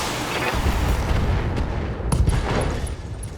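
Heavy guns fire in a video game, a dense rumble of booming blasts rolling together for a few seconds, loud and near, with no talking.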